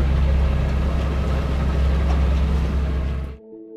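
An inboard engine on a sailboat under autopilot at sea en route from Iceland to the Faroe Islands drones steadily with a deep low rumble, then cuts out abruptly near the end, leaving faint residual hum.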